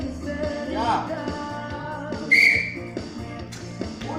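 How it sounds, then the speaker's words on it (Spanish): A single sharp whistle blast rings out over a noisy, music-filled crowd at a campfire gathering event, briefly standing out before the background chatter continues. "Al sonido del silbato."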